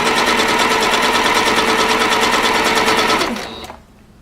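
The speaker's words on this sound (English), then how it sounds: "I'm just going to pull on the jelly tape as I sew." A sewing machine stitching stretchy jelly tape onto fabric runs in a fast, steady rattling rhythm, loud and close, then slows and stops near the end, leaving quiet.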